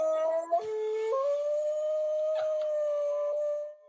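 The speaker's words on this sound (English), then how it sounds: "The whining, the howling." Dogs whining and howling over a FaceTime call, a sustained, wavering tonal howl that shifts pitch in steps, with brief yips and whimpers breaking in, moderately loud and without talking.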